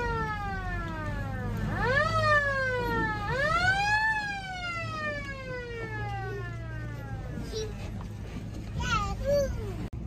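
A siren on a cattle caker wails in rising and falling sweeps, loud and close, fading toward the end, with a voice and outdoor farm noise in the background.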